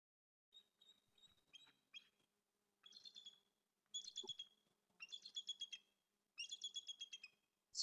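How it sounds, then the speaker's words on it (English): A bald eagle call played from a recording: a faint, thin series of rapid high chirps in five or six separated bursts, each quick chattering run slightly louder than the last, with no talking. "bald eagles actually make a kind of silly noise, and I'll show it to you here"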